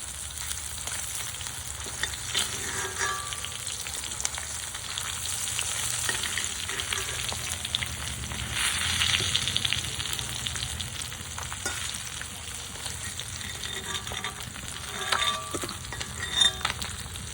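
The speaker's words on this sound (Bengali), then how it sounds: "দেখুন এই মাছগুলো এবার সুন্দর ভাজা হয়ে গেছে" Pangasius fish pieces fry steadily in hot oil for a Bengali fish curry, with a continuous close sizzle and crackle and occasional stirring or clinking bursts throughout, and no voices.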